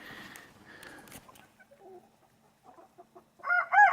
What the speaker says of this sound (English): I want to give you a shot of the quail here that are free ranging.